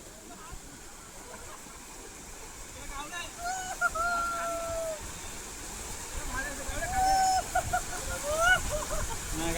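A waterfall in Kolad in the Konkan region rushes steadily while a group of people splash and play in the water, with voices and shouts rising over the continuous roar.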